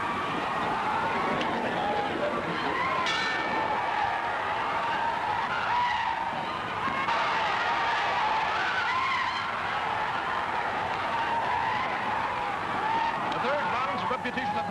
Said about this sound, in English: Get downstairs and get that car started and keep it running.